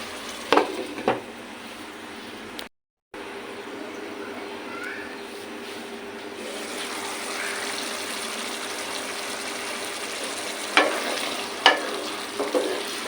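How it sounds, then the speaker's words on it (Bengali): Prawn and banana flower kofta curry gravy begins to boil in a pot, a soft continuous bubbling simmer with a brief dropout and a few sharper clinks near the end. "দেখতেই পাচ্ছেন এখানে ঝোলটা ফুটতে শুরু করেছে"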